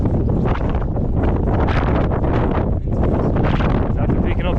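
Strong wind buffets the microphone continuously and loudly on a fly-fishing boat, a dense unbroken roar with people talking underneath.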